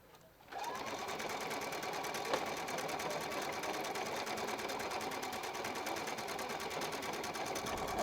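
A Husqvarna Viking Epic 2 sewing machine starts up and stitches at a steady, rapid whir with a fine repetitive needle clatter, running continuously and close by with no talking.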